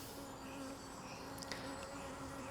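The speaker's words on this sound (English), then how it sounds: "So this is the angry hive full of flying bees." An angry honeybee hive buzzes with bees flying around it, a faint continuous drone with a few louder close passes as individual bees zip by.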